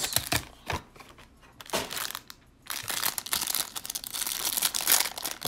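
A pack of basketball trading cards is torn open by hand, its foil wrapper crinkling and crackling in close, bursty handfuls separated by brief quiet pauses, with no talking.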